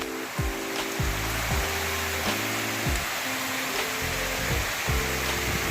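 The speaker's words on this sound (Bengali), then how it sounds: "প্রচুর জোরে বৃষ্টি হচ্ছে প্রচুর জোরে" Heavy rain pours down in a dense, unbroken roar, with faint music playing underneath throughout.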